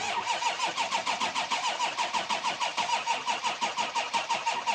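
A Ford F250 truck engine cranks and catches, the starter's rhythmic chugging pulses steady and loud throughout as the engine turns over toward idle after transmission work, close by with no talking.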